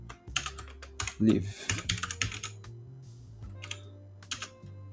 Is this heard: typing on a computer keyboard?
yes